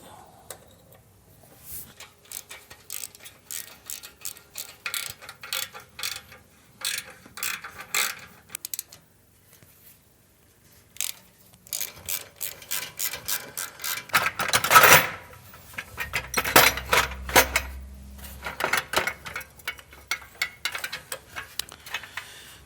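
Ratcheting hand tools and metal clanks sound while the exhaust header comes off a Harley-Davidson Milwaukee-Eight Softail. Bursts of clicking come in uneven runs, close and moderately loud, with brief pauses and one louder knock midway.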